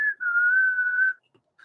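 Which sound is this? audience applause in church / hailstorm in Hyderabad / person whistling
person whistling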